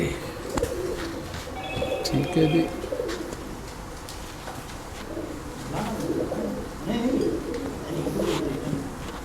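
Commander breed pigeons from a Karachi fancier's line coo in soft, repeated throaty bursts, with a brief voice speaking over them near the start.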